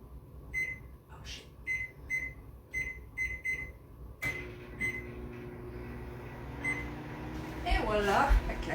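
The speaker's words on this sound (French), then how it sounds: "Je mets ça au micro-ondes pendant 20 minutes et dans 20 minutes, ben, ma soupe va être prête." A microwave oven heating turkey noodle soup in a Tupperware container in a home kitchen beeps several times, then its door shuts and a steady hum runs quietly, with faint rattling near the end and a voice talking throughout.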